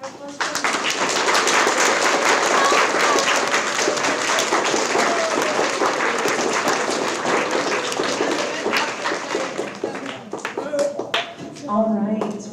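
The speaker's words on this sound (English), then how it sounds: "Let's give a big round of applause for him." An audience at an elementary school sixth grade end-of-year celebration gives a sixth grader a big round of applause, full and sustained clapping that thins toward the end as a voice begins speaking.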